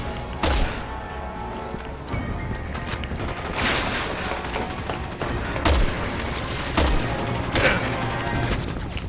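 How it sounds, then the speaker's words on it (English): Dense gunfire in the Resident Evil 6 video game, with sharp shots and bursts rattling continuously through a noisy battle din, several louder cracks standing out. "I don't even see who's shooting."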